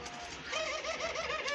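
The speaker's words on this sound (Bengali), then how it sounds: "এটা হচ্ছে দেশি ঘুঘু" A native dove gives soft, rolling low coos in quick succession, close and fairly quiet against a faint background.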